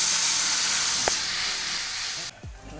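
Water poured into a pan of hot masala with garam masala and turmeric for a horse gram curry gives a loud, steady steaming hiss that holds for over two seconds, then cuts off abruptly, leaving a faint low rumble.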